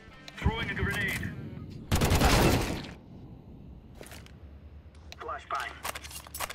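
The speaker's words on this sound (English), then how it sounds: "Throwing a grenade." A grenade exploding in Counter-Strike 2 on the Nuke map, a loud broadband blast lasting about a second midway, with shorter gunfire-like bursts and voices around it.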